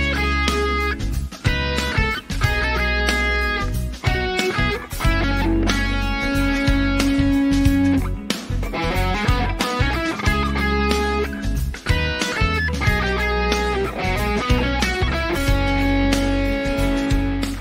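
Loud, distorted electric guitar plays a dense lead line with string bends and vibrato over a driving accompaniment with drums, continuous and close for the whole stretch.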